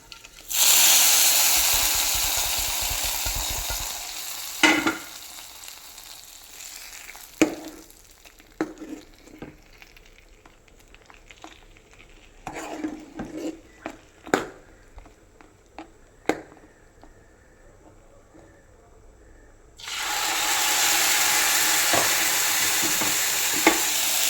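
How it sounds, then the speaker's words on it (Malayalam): Mustard seeds tempered in hot oil hit mango pulissery, a Kerala yogurt curry, with a loud burst of sizzling that settles into quieter scattered crackles and spoon stirring before a second strong sizzle swells at the end. "ഇനി ഞാൻ ഇപ്പം കടുക് താളിച്ചത് അതിലേക്ക് ഇടുവാണ്."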